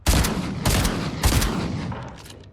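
Gatekeeper shotgun fitted with a 3-shot speed mag in Fortnite, heard as three loud, sharp bursts in quick, evenly spaced succession, each decaying into a fading tail, with no talking.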